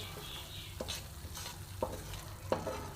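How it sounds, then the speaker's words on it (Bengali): A spice mixture with salt, yogurt and sugar for a paneer curry fries softly in a pan while a spoon stirs it, making quiet, faint scrapes and taps over a low sizzle, with no talking. "এবার সব ভালো করে মিশিয়ে নেব।"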